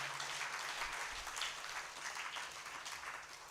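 An audience applauds steadily at an International Day of Yoga 2022 event, a dense and even wash of clapping that holds at a moderate, slightly distant level throughout.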